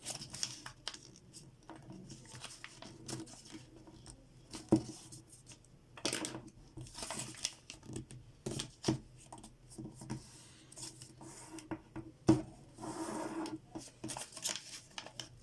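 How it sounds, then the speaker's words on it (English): Origami paper being folded and creased by hand, close up, with soft crinkling, rustling and sharp pressing snaps coming in irregular bursts across a quiet background. "Just take this edge and fold it to the center."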